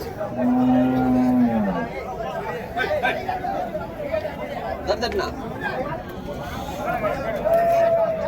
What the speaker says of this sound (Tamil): நல்ல பெரிய காளைங்க, நாட்டு காளைங்க, வண்டி காளைங்க பாருங்கள்